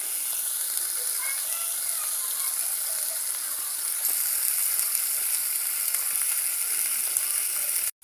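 Onions and aromatics for a Kerala-style tuna curry with kudampuli sizzle and crackle steadily in a hot pan, close and even throughout, with no talking, then cut off abruptly at the end.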